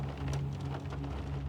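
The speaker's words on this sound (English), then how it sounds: "he sits alone in his car in the parking lot, lost in thought as the rain hammers down on the windshield" Heavy rain hammers on a car windshield in a parking lot, a close, constant patter and wash with a low rumble beneath it and no voices.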